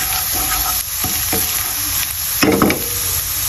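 Garlic sizzling in hot oil in a pan for a Filipino ginataang sigarilyas, a steady close frying hiss with a few louder crackles and stirring scrapes partway through.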